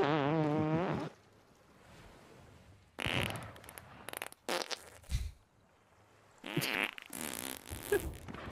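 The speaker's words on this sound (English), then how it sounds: "Some of these have a second delayed fart that just sneaks up on you." Cartoonish fart sound effects played during a Sea of Thieves gameplay stream: a long wavering blast, then after a quiet gap several more bursts, including a delayed second fart, loud and alone without talk.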